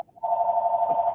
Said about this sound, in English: Mace's phone.